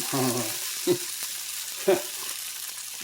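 Onions browning and caramelizing in a hot pan for bangers and mash, a steady crackling sizzle with two brief stirring scrapes, close up and without talk.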